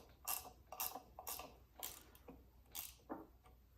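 A ratchet clicks in quick bursts while running down bolts on a 1958 Johnson 18 hp outboard, with six or seven short, sharp ratcheting strokes close and fairly quiet.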